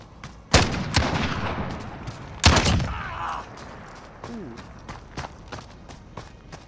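Gunshots from a slow-firing gun in a Call of Duty: Modern Warfare free-for-all match, two loud separate cracks followed by fainter scattered shots and footsteps, with speech over it.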